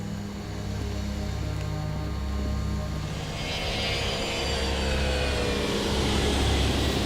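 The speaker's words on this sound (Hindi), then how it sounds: "हम यहाँ प्योंगयांग से उड़ान भरेंगे" A plane takes off from Pyongyang, with a steady, building engine roar rising in pitch and growing louder as it climbs, heard from inside or close by with no talking.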